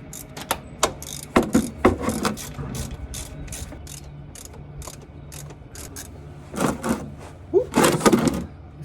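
Ratchet wrench loosening 13 mm bolts on a Jeep Wrangler JL during a front axle disconnect delete, rapid clicking bursts in several close runs separated by pauses, with faint workshop background.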